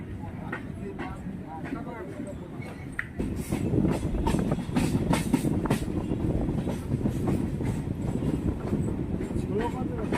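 A Sealdah–Krishnanagar local train runs between Chakdaha and Payradanga, its wheels rumbling and clacking steadily from inside the carriage, growing louder after a few seconds, while someone talks over it.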